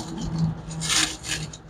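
Clingy plastic wrap peeling and rasping off air conditioner line sets at an installation, a close, continuous crinkling rub with brighter bursts, no talking.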